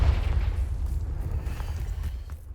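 Confringo fire spell in Hogwarts Legacy bursting into a heavy, low explosion that decays into a dull, rumbling roar across a couple of seconds.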